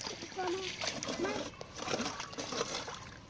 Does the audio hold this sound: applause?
no